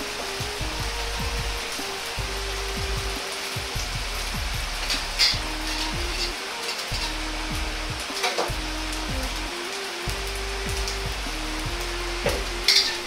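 Cheese for a yakisoba pizza sizzles steadily in a pan over low heat, a constant crackling hiss with occasional soft scraping knocks close by and no talking.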